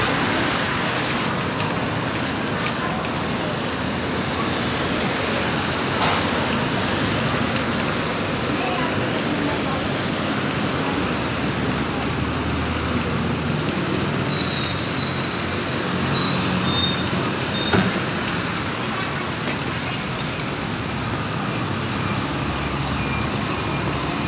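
Rain falls in a steady, broadband hiss alongside continuous road traffic, vehicles rumbling past nearby while a person talks over the noise.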